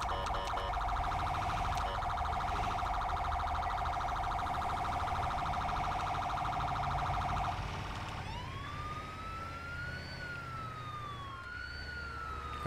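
A loud, continuous electronic siren from an FDNY EMS ambulance in the video game GTA 5 wails steadily, then shifts to a rising and falling yelp pattern, close and without speech.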